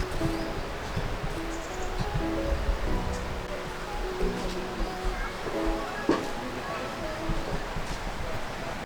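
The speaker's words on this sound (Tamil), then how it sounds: "ஒரு ஹைட்டில் இருந்து விழுற தண்ணி தானே," The Krang Shuri waterfall in Meghalaya gives off a steady broadband rush of falling water, constant and fairly close, with people talking over it throughout.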